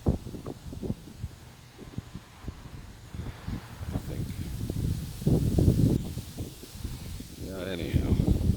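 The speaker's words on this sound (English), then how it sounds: "I hope this wind isn't too bad." Gusty outdoor wind buffets the microphone in uneven rumbling bursts while someone talks throughout.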